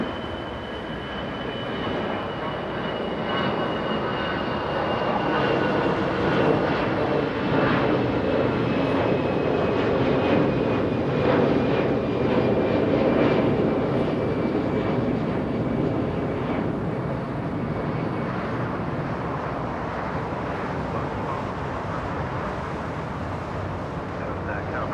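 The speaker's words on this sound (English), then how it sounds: "executive jet taking off" An executive jet takes off at Los Angeles International Airport, a loud, sustained engine roar with a rising whine that holds steady across the whole stretch. Voices can be heard faintly beneath the noise.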